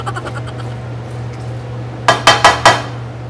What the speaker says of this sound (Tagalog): halu-haluin na si ating pasta pataas at pasta pababa